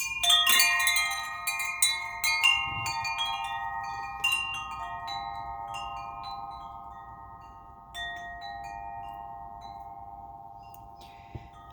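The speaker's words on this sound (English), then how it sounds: "Let's ring the large chimes, clear out any negative energy" Large chimes are struck in a rapid cascade of bright metallic tones, then left to ring and slowly fade, with a few later strikes over the long decay.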